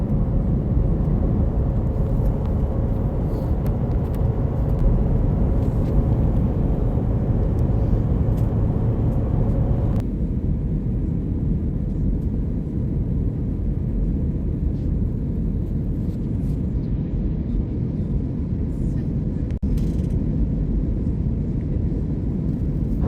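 Inside an airliner cabin on approach with the flaps extending, a loud steady rumble and whir continue throughout, and the tone shifts noticeably partway through with no talking.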